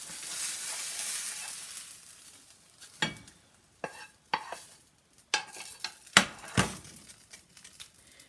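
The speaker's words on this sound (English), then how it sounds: "I turn off my stove and I am going to dish that into a plate" Cooked egg mixture being scraped and dished from a pan onto a plate after the stove is turned off, heard as a faint sizzle followed by several sharp, irregular scraping knocks up close.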